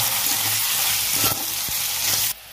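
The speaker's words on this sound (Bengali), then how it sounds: "ভালো করে আলুটা লাল করে ভেজে নেবো" Potatoes frying in oil with green chillies and spices, a close, loud continuous sizzle with a few stirring knocks, cutting off abruptly near the end.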